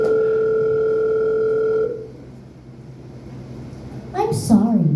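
A steady electronic telephone tone, probably a busy signal, hums at a constant pitch for about two seconds and then cuts off, followed by quiet room noise and a voice speaking near the end.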